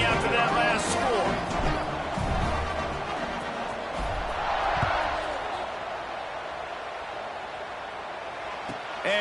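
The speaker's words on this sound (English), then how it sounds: "this crowd is buzzing after that last score" Football stadium crowd at a Nebraska vs Georgia Tech game buzzing after a score, a broad sustained roar of cheering and babble under a commentator's voice.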